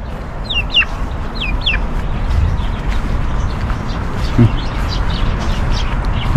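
Several chickens cluck and chirp close by around a backyard coop, short broken calls repeating over a steady outdoor background hum, with no talking.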